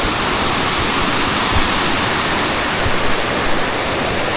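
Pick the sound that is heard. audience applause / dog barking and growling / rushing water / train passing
rushing water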